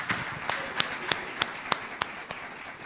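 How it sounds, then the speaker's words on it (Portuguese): Church congregation applauding the Holy Spirit during a sermon, a soft wash of clapping with a few sharper individual claps standing out at a steady, spaced rhythm. "Então a sua salva de palmas ao Espírito Santo"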